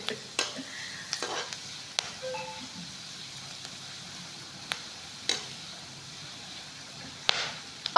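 Pirandai pickle fries in a pan with a soft continuous sizzle, broken by sharp clicks and scrapes of stirring, near and fairly quiet.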